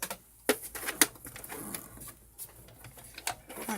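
A Brother CS 6000 computerized electronic sewing machine stitches in soft, uneven clicks and patters with a low mechanical hum beneath, fairly quiet and close.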